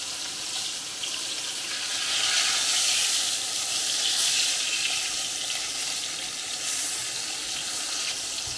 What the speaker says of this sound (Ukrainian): перевертаємо та смажимо з другої сторони